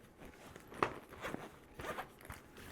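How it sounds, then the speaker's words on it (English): A zipper is pulled closed on a packed travel bag holding toothbrushes and toiletries for a cruise, several short rasping strokes in a row, soft and close. "Now I'm going to go ahead and zip this up."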